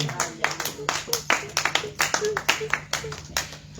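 A church congregation claps in a steady, lively rhythm to acclaim the Lord, with many hands striking together close by while voices sing or call out over it.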